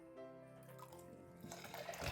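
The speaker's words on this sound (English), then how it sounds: "Let's pour in this fragrance oil." Fragrance oil poured into a batch of grapefruit pineapple lime soap batter, a faint liquid trickle and glugging that builds toward the end, heard alone without talk.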